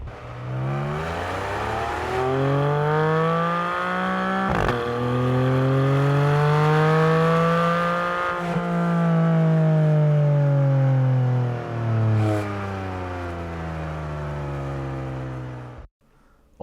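Porsche 718 Boxster GTS 4.0 exhaust roaring as the flat-six revs climb and fall through several long sweeps, loud and close, with a brief drop near the end.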